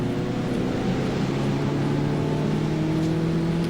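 Jaguar XJR race car with a supercharger, running at Donington Park during a club race, giving a steady high-pitched whine over continuous engine drone throughout, close and loud with no talk.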